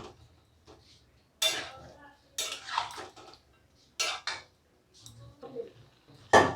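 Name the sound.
stirring vegetables with Amul milk in a pan on the gas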